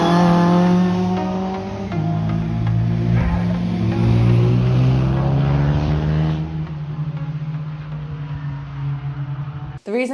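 Ginetta G40 GT5 race car with a 1.8 litre Ford engine and sequential gearbox, heard onboard at Cadwell Park: a loud, steady engine drone that shifts pitch through gears before cutting off, with a voice talking over it.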